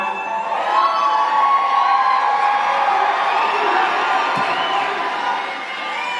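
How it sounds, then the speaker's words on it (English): A big crowd at the AmFest 2025 rally in Phoenix cheers, whoops and shouts in a steady sustained roar that fades slightly at the end. "What an amazing crowd all of you are"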